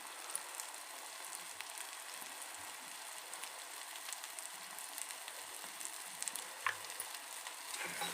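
Oil sizzling steadily in a pan while egg bhurji is being made, a dense, even hiss with small pops, fairly faint and without talk.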